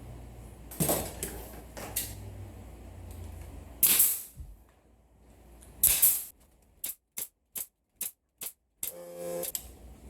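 A Porter Cable staple gun drives narrow-crown staples into metal drywall corner bead. It gives a few loud, scattered shots, then a quick run of five or six sharp snaps in a row, with handling rattles between them.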